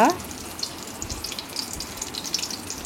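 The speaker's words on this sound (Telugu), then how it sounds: "కాడతో ఒక్కొక్కటిగా ఈ విధంగా ఆయిల్లో వేసేసుకోండి" Stuffed brinjals hitting hot oil in a kadai give a faint, steady crackling sizzle with scattered small pops throughout, fairly quiet and without talk over it.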